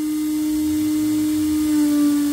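The spindle of a Queen Ant Pro v2 CNC router whines with a steady, loud, close electric hum, its pitch holding constant and then shifting slightly higher near the end.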